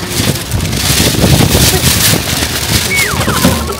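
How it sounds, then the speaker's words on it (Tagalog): Strong wind in Tokyo buffets the microphone in loud, rough gusts, with a rushing roar and a brief faint whine near the end. "Ang lakas ng hangin."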